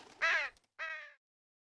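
Two loud, harsh crow caws in quick succession, the first rough and noisy, the second more tonal, close and clear against silence.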